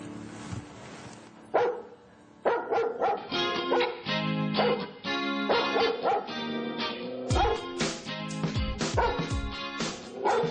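Dogs bark and yip in repeated excited bursts, loud and close, with some whimpering between barks and barely any pause across the stretch.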